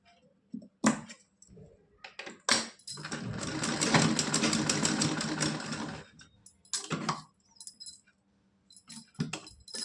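A sewing machine stitches a Laddu Gopal kurta-dhoti dress, running in a steady buzzing whir for a few seconds, framed by short clicks and handling taps close by.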